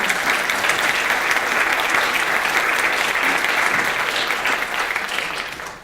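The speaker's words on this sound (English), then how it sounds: "I wish you'd give him a warm round of applause" An audience at a cancer symposium welcome applauds steadily and warmly, dense clapping held for several seconds before it starts to thin out.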